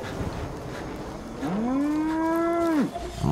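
A cow in the video game Far Cry 5 lets out one long, loud, close moo that rises, holds and then drops off, set against low background noise.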